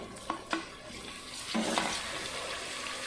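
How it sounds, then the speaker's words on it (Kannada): Tomatoes tipped into onions frying in a pan: a couple of soft knocks, then a steady sizzle that swells as they land and keeps up under occasional spoon scrapes. "ಈಗ ನಾನು ಆನಿಯನ್ ಸ್ವಲ್ಪ ಫ್ರೈ ಆದಮೇಲೆ ಟೊಮೊಟೊವನ್ನು ಹಾಕ್ತಾಯಿದ್ದೀನಿ."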